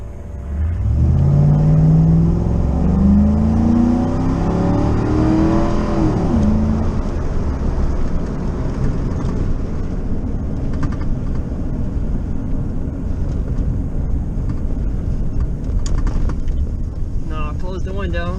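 A car fitted with an Amazon ram air intake drives along with the window open, giving a steady loud road and wind rush with engine tone rising in pitch during the first seconds, then holding a constant roar.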